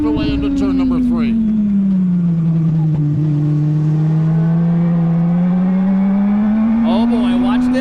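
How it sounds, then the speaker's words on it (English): Race cars in a four-car breakaway roar into turn three at a speedway, a loud, continuous engine drone bending gently in pitch under an excited commentator's voice. "a 4-car breakaway at the front of the field as they make their way into turn number 3"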